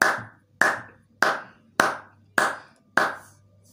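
A church congregation claps together in acclamation of Jesus, six sharp, evenly spaced loud claps, close and without speech.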